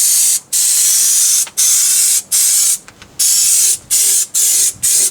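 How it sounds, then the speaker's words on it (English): Brake cleaner hisses from an aerosol can onto a rear differential housing on a solid axle, in about seven loud, close bursts of spray separated by short gaps. "I'm just going to use a bit of brake cleaner."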